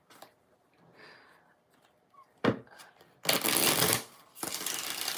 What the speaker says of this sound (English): That King of Cups showed up in the shuffle, Infinity, and that was very random.